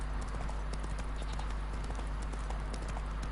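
A horse galloping in The Witcher 3, with rapid, steady hoofbeat clip-clops under a constant loud background rumble and no pauses.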